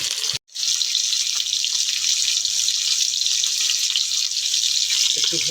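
Crab fries lightly in a pan for a village-style crab dish, a bright, constant hiss of oil that drops out for a split second near the start, then runs on evenly and close.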